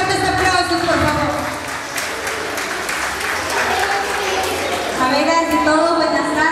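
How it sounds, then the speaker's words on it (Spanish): Audience applause at a Christmas gathering of an association in Ferreñafe, a dense sustained clapping that stays loud throughout, with voices and some murmuring mixed in. "la recibimos con fuertes aplausos, por favor"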